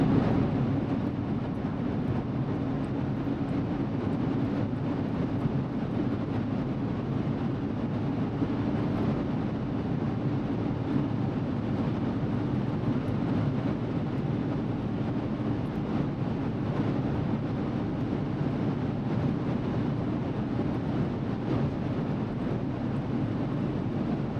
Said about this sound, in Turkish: vites atıp devirlenmeye devam ediyor.